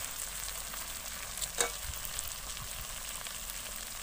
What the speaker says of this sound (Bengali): এক মিনিট আমি ভালো করে মশলাটা ভেজে নিয়েছি।